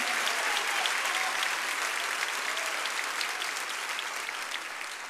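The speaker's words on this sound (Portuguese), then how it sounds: "Pode aplaudi-lo mesmo" Dense applause from a Baptist church congregation during a Sunday morning service, steady and full for the whole stretch with no voices over it, easing off only slightly at the end.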